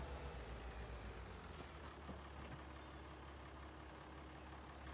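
Low engine drone of a tractor reversing a trailer in Farming Simulator 22, a steady idling rumble with a brief hiss like an air release partway through; no talking.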